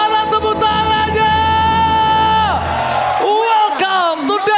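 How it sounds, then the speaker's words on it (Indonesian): Crowd in an arena at a Derby Classic esports match, whooping and cheering under a long, drawn-out shout from a caster. "Soebel Arena, mana tepuk tangannya?"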